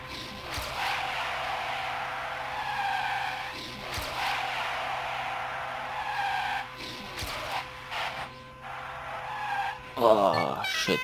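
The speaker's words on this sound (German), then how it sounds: "Ein bisschen driften ist immer gut." A car drifts through corners in the racing game Trackmania 2 Stadium, with sustained tire squeal and skidding over a steady engine drone and a sharper crash-like burst near the end.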